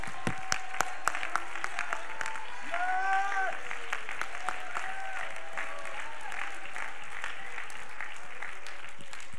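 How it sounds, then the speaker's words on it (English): Congregation clapping hands at a church missions conference, a scattered, fairly faint patter of claps with a few sharper individual hits, while voices sing or call out over it. "Would you clap your hands to the Lord?"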